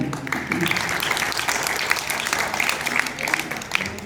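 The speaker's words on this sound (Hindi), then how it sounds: "गाना के लिए जोरदार ताली बजाएंगे।" Audience applause for a song performance at a religious jubilee celebration at an ashram, steady dense clapping throughout with some crowd voices mixed in.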